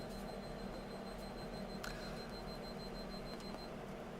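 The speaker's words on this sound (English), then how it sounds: "my electric meter's beeping at me because it's getting ready to run out" An electric prepayment meter beeping as its credit runs low indoors, a steady high tone pulsing faintly over a constant background hum.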